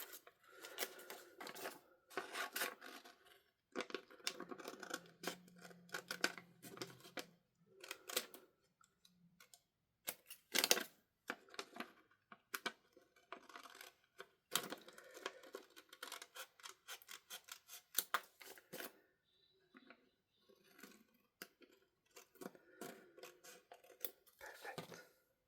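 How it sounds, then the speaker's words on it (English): Scissors snip away excess vellum paper during a double-stamping craft project, giving repeated short crisp cuts in irregular bursts with pauses, close and fairly quiet, with no talking. "I am going to cut off the extra vellum."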